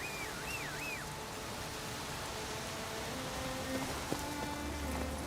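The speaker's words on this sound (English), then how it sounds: "Ah, good, it's raining" Steady rain falls in The Witcher 3 as a continuous, even hiss of drops on surfaces, with faint game tones and a soft tap near the end.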